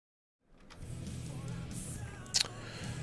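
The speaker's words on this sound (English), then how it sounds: "We got cars out there for qualifying right now." Race cars circulate on the track during qualifying at Daytona, a steady engine drone sweeping past at a moderate distance after a silent start, with a brief sharper burst partway through.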